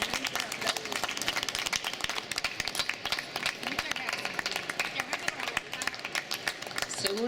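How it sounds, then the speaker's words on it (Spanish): An audience claps steadily at a Spanish-language book presentation, a dense, continuous patter of many hands that holds at an even level from start to finish, with murmuring voices mixed underneath. "Aplauda."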